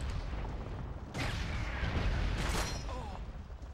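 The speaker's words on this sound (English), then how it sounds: "Weird place to put a mortar." A mortar fires in Call of Duty 2, a couple of heavy, muffled booms rolling over a dense bed of wartime battle noise that stays at the same level throughout.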